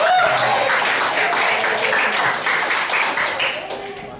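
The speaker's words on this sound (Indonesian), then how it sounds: "tepuk tangan buat Stefani" A classroom of students at a vocational school applauds a presenter, giving steady dense clapping that holds throughout and eases off slightly at the end.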